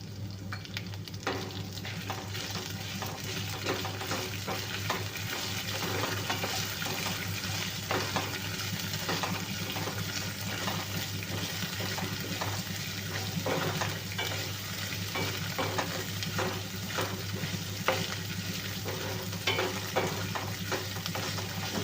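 Neem flowers and moringa leaves are fried and stirred in a pan to make a spice powder. A constant moderate sizzle continues with soft scraping from stirring and a low steady hum underneath, with no voices.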